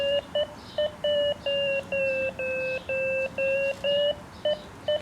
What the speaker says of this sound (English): When it's in the middle position, we'll get the Vario beeps.